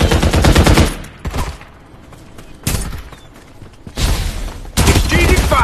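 Bursts of automatic gunfire from a PUBG Mobile firefight hit hard in three loud volleys, separated by quieter stretches with scattered single shots.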